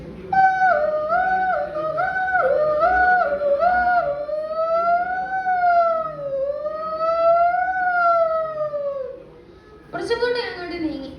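Ambulance siren imitated by a young performer's voice, a loud wailing tone that first alternates quickly between two pitches, then glides slowly up and down before breaking off; a short burst of crowd noise or cheering follows.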